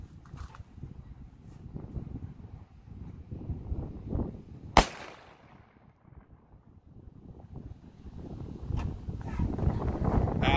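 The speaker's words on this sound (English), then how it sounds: "it's so windy, it's actually blowing my truck" Strong gusting wind buffets the microphone at an outdoor shooting range, rumbling and swelling throughout, with one sharp distant gunshot crack partway through.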